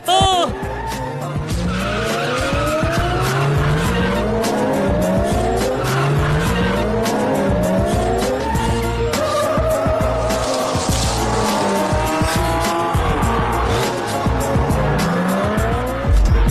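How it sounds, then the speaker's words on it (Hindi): A taxi races on a track with tires squealing repeatedly through hard turns, loud engine roar and rising skid screeches throughout, with excited voices mixed in. "कमाल है, टैक्सी ने ईवी जोन्स को ओवरटेक करके इस रेस को जीत लिया है।"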